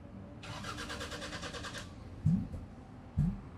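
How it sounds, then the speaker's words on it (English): A 30-year-old Toyota MR2 with 270,000 miles cranks for over a second in a fast, steady rhythm and nearly catches without starting, followed by a couple of dull thumps. "Oh man, it's so close to starting."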